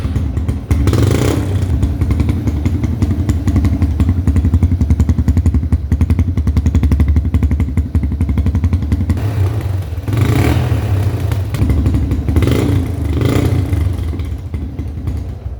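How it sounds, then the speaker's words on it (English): A dirt bike engine with its exhaust baffle removed idles loud and raspy with no muffling, revving up sharply several times toward the end, close by. "now it's time for the startup without the hole in the exhaust"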